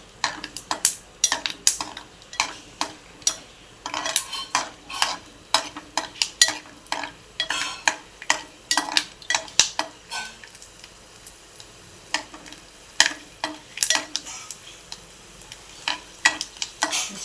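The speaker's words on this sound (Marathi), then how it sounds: "या शेंगदाणे भाजूया करूया त्यामध्ये चांगलं तळून घ्यायचं" Peanuts fry in oil in a pan. A spoon stirs them in a busy run of close, sharp scrapes and clinks over a light sizzle.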